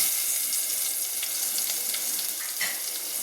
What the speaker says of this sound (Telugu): ఈ ఆయిల్ వేడెక్కిన దాంట్లో మనం ఫస్ట్ ఏం చేయాలంటే ఈ ఈ ఈ మసాలాను వేయించుకుందాం